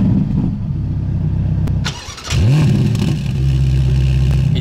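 A Ferrari Roma's 3.9-litre twin-turbo V8, rated 620 hp, idles with a deep, heavy rumble, dips briefly, then barks through a sharp rev that sweeps up and falls back to a loud, steady idle, close by.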